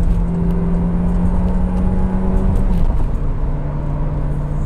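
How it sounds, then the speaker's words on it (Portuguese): A Peugeot 2008 Style 1.6 16V engine hums steadily at high rpm with a sustained whirring tone, then the pitch drops as the revs ease off, heard close and fairly loud. "esse motor trabalha bem em rotações mais elevadas. Então você vê, dando giro"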